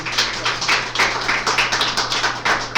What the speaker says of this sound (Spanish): Démosle un aplauso de bienvenida a nuestro hermano Joan.